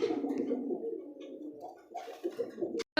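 Several pigeons cooing close by in a Rajgolla pigeon loft, a steady overlapping run of low throaty coos with brief louder chirps near the end.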